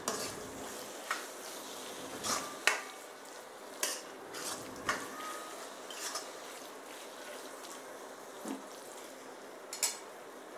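Spice masala being stirred into curd in a bowl for veg biryani: quiet scraping and scattered clinks of a spoon against the dish, soft and intermittent, with no talk.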